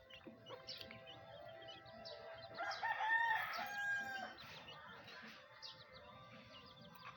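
A rooster crows once in the middle distance, its call rising over a steady outdoor background of birds and faint ambient noise.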